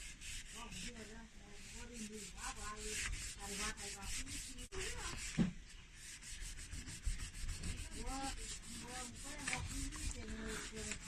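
A cloth rubs along a dirty refrigerator door seal that has had cleaning liquid poured into its groove, making quick rhythmic scrubbing strokes, faint and close, repeating throughout.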